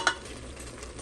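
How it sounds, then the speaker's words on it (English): Ingredients stirred into spinach dip, one soft scraping stroke of a spoon in a bowl up close, then a quiet wet rustle that fades. "stir that in there"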